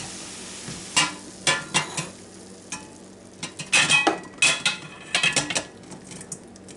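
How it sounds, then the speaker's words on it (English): Cooked hamburger is scraped and drained in a pan, giving a series of irregular metallic scrapes and clanks over faint sizzling, heard up close. "I have my hamburger cooked just a little bit, and I'm going to drain it and put it in the crock pot."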